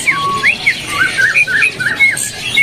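A green leafbird, the cucak ijo, whistles and chirps in quick bright phrases at a bird market, loud and close, with a faint hum of market background beneath.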